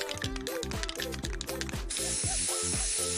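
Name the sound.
spray paint can spraying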